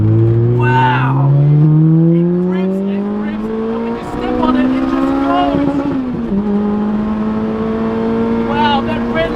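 A supercharged Lotus Exige S engine revs hard toward redline, a loud rising howl that climbs, dips at gear changes and climbs again, close up, with a voice briefly over it.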